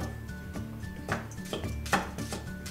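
A Japanese kitchen knife chops on a cutting board in crisp, sharp knocks, several strokes in an uneven rhythm over soft background music.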